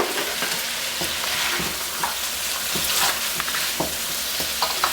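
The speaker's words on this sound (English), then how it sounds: "We can thoroughly coat the wings now." Chicken wings tossed and stirred in buffalo sauce in a pan, a steady wet sizzling with repeated soft clacks and scrapes of stirring, close and continuous with no talk.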